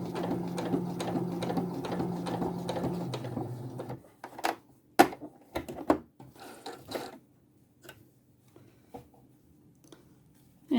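A sewing machine runs a straight-line seam along a ribbon, whirring steadily for about four seconds before stopping, followed by scattered clicks and handling knocks of the fabric and machine in near silence.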